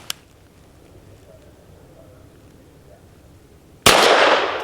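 A Hammerli Forge H1 .22 pistol fires a single Remington Yellow Jacket hollow point round, one sharp loud crack near the end of the clip after a quiet stretch with a faint click at the start.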